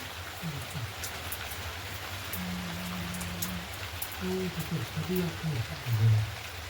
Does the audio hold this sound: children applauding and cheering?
no